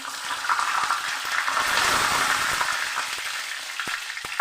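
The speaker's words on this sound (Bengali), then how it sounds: "আমি এখানে কড়াই তেল বসিয়ে দিয়েছি, পরিমাণ মতো দিয়ে দিচ্ছি দুটো তেজপাতা" Steady crackling sizzle of bay leaves frying in hot oil in a wok, with faint light pops and ticks, no voices.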